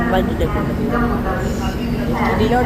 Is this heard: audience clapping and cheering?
no